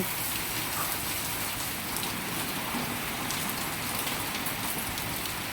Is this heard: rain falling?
yes